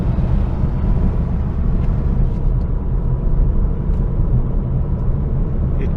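A Saab 9-5 Aero with a 3-inch straight-pipe twin exhaust and no mufflers accelerates under throttle, giving a loud, continuous low rumble recorded from inside the car.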